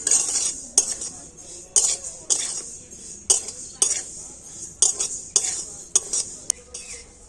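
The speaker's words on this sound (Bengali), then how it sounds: "হালকা জাল দিয়ে তিলটাকে ভেজে নিয়েছি" Sesame seeds roast in a pan over a low flame while a utensil stirs them, making regular metallic scrapes and clinks every second or so above a soft background.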